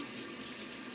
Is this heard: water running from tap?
yes